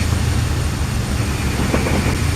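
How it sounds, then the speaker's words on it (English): Class 56 diesel freight locomotive in a Transport Fever 2 train simulation, a loud, steady low diesel rumble with a constant rolling drone throughout. "this is a class 56 diesel locomotive"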